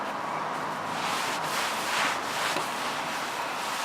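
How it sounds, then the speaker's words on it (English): Steady soft rubbing of a cloth over a freshly sanded wooden seat, a continuous close brushing hiss with small swells and no talk. "So I'm going to try just wiping it down."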